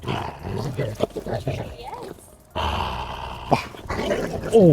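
A big dog growls and grumbles playfully during a lead-walking training session, rumbling steadily at close range with short pauses, mixed with a person talking over it.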